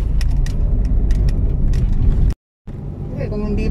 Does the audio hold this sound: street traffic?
yes